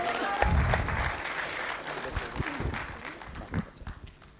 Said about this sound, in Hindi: आपकी तालियों की जो गड़गड़ाहट है